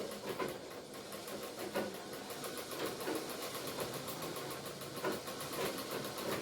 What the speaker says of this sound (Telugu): ఈ చక్రం ఉంది కదండి దీన్ని ఇలా ముందుకంటూ మనం మిషన్ని తొక్కాలండి